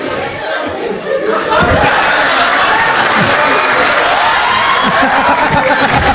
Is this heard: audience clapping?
yes